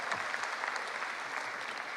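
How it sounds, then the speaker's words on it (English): An audience at an International Youth Day event breaks into applause, a dense, even wash of many hands clapping at moderate distance, steady from start to finish with no voices on top. "Round of applause."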